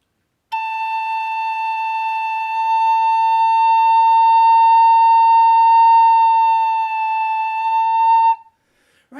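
A Native American flute holds one long, clear high note with a slightly vented hole, steady and loud for about eight seconds, with a small pitch shift near the end before stopping.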